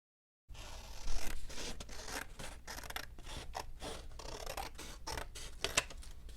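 Scissors snip steadily through paper to cut out hand-lettered words, a close run of rhythmic crisp cuts and rustling that starts after a brief silence and continues to the end.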